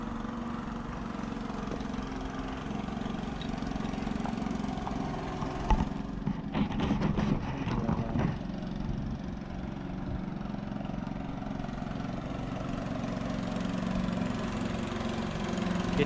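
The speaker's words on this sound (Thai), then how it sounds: "มีเสียงเรือผ่านมาครับ" A boat engine passing on a river hums in a steady drone, with a brief rougher burst of mechanical noise midway, running nearby.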